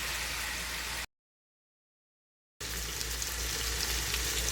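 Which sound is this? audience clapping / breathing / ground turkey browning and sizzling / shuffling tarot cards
ground turkey browning and sizzling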